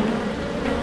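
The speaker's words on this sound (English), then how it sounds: "Quite a lot of bees kicking around here as well." Honeybees buzzing close by during a hive inspection, forming a steady, dense drone that holds unbroken without any talk.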